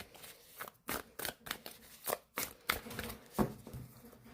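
Tarot cards are shuffled in quick, crisp riffling bursts, close up, with a few soft slaps as they're drawn and set down.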